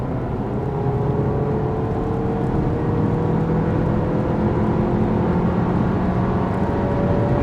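A 2020 Volkswagen Tiguan Allspace accelerates with the engine pulling hard under manual paddle-shift control, a steady drone climbing smoothly in pitch for several seconds, heard from inside the car with no talking.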